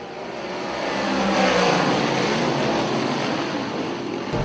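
Big block modified race cars on the Georgetown Speedway short track roar as they accelerate back to green, a loud dense engine wash swelling and holding, with no voices over it.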